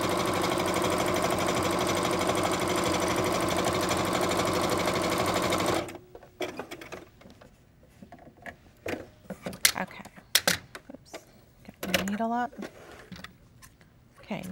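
A sewing machine runs steadily for several seconds straight stitching in a fast, even whir, then stops, followed by quiet handling clicks and rustles.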